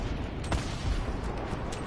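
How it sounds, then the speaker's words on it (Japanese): Gunfire in the video game Fortnite on PS4, a few sharp shots popping over a dense, steady layer of game sound, fairly quiet overall. "本当に銃声の音してる"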